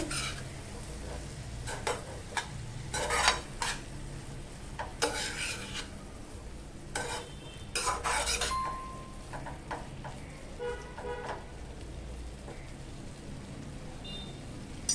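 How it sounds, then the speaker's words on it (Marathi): Kurdu leaf vegetable is stir-fried with salt in a pan, a steady gentle sizzle broken by rubbing, scraping strokes of a spatula stirring the greens, with no talk. "आता आपण चवीपुरतं मीठ टाकूया पुन्हा एकदा आपण ना व्यवस्थित अशी परतून घ्यायची आहे"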